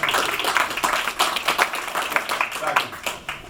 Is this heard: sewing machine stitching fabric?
no